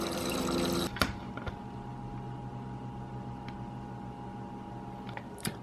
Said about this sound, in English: Refilling my water.